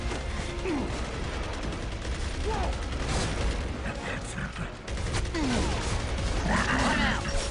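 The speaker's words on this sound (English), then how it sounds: "Stop shooting me with those bullets." Dense bursts of automatic gunfire and mechanical clatter in Gears of War 3 fill the scene continuously and loudly, with a voice talking over the chaotic combat noise.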